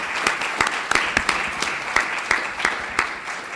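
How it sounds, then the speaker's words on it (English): An audience at an economic forecast panel event gives the panelists a round of applause: close, lively clapping with uneven bursts of individual claps rising and falling throughout. "how about a round of applause for our panelists?"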